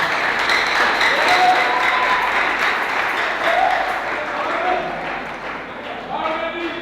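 Sustained applause from a church congregation during a Sunday worship service, a dense, steady wash of clapping that fills the room throughout, with voices and exclamations mixed in among the crowd.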